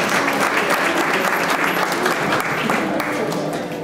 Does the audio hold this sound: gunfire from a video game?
no